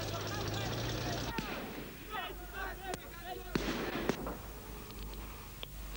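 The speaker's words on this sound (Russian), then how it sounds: "Включенный микрофон на камере успел записать звук выстрела снайпера." A sniper's gunshot caught by a camera microphone in wartime, heard as a sharp isolated crack with a few further distant bangs over a rumbling background and murmuring voices.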